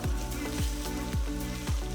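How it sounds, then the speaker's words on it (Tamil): Onions with ginger-garlic paste and slit green chillies fry in a pan, giving a steady, moderate sizzle with faint periodic low thumps from stirring. "வெங்காயத்தை நல்ல பொன்னிறமாக வதக்கிக்கலாம்"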